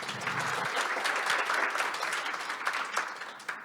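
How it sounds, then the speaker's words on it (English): A small audience at a photography talk applauds the panelists, with a fairly quiet and even run of clapping lasting a few seconds and a few sharper claps near the end. "let's begin, please, by just giving a big round of applause to all our panelists"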